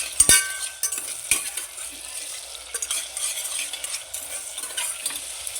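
Onion with ginger garlic paste frying in ghee over a low flame, with a sharp metallic clank and then repeated spoon stirring and scraping over a soft continuous sizzle, close up.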